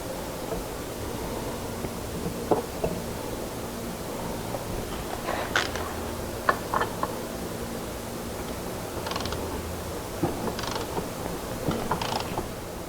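Torque wrench set to about 85 to 90 pounds tightening clutch cover bolts, faint mechanical creaks and scattered sharp clicks over a steady background hum, with no talk.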